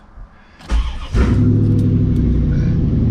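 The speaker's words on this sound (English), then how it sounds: "just turn on the car for a second" A 1994 Chevrolet Corvette C4 engine cranks briefly, then catches and settles into a loud, steady idle rumble close by, with no talking.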